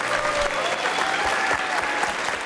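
Steady, dense applause from a studio audience rewarding the winner of a school quiz show for ninth-graders, loud and continuous throughout with no break.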